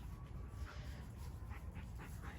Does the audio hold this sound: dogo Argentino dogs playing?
yes